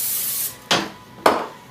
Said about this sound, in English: first we're going to spray it with some cooking spray